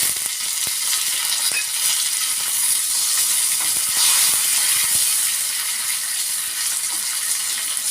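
Chillies and curry leaves frying in hot oil, a steady close sizzle with crackling spits and a few louder bursts across the whole stretch, with no voices.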